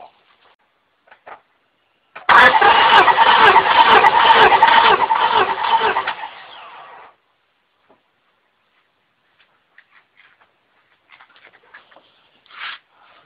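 A 1998 Honda Accord 4-cylinder VTEC engine cranks over on the starter during a compression test of cylinder two, a loud rhythmic churning that runs for about five seconds and then stops, leaving near silence with a few faint clicks.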